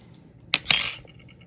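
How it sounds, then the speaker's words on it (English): A small cappuccino spoon taps a chip in a car windshield, making two quick, bright metallic clinks close to the listener, with a short ring after the second and quiet before and after. "a cappuccino spoon or a baby spoon, it works great as a bullseye tapper"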